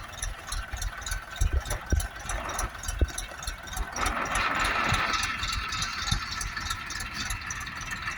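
A new 2024 Bulat Xingtai 240 mini tractor with an M385 engine drives in at a roadside loading site. Its mid-pitched diesel runs steadily throughout with rattles and knocks, and the engine note rises and grows louder partway through.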